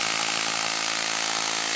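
A Vevor SDS rotary hammer drill in straight hammer mode, without rotation, pounds at close range as a loud, dense, continuous buzzing rattle that holds steady throughout.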